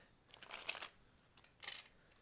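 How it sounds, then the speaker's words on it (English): A deck of tarot cards is shuffled in two brief, soft riffling bursts close to the listener, separated by a short pause, with no talking. "Shuffle this deck."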